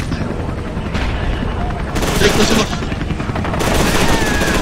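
A grenade blast and rapid gunfire from the shooter video game F.E.A.R. 2 fill the scene in loud, dense bursts, the crackle of shots rolling almost continuously with a few heavier surges.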